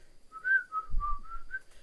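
A person whistles a tune from Disney's Snow White, a short clear melodic phrase of several sustained notes, close and fairly loud, with a low thump partway through.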